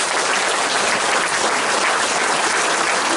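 Steady, dense applause fills a gala evening hall as the audience claps for the event organiser, loud and unbroken with no voices standing out.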